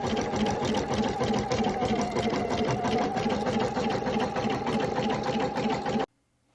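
An embroidery machine stitches a centre motif on fabric with a fast, even mechanical chatter, loud and close, running steadily before stopping abruptly near the end.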